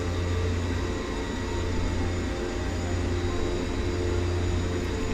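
Jet aircraft in the X-Plane 11 flight simulator near an airport in Florida, a steady loud engine roar with low droning tones, continuous and unbroken without talk.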